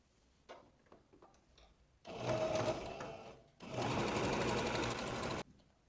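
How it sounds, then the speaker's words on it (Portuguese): A sewing machine stitches all around a shirt collar, running in two loud, steady bursts separated by a short pause, with quiet handling noises before and after. "Vou passar um pezinho de máquina em toda essa volta."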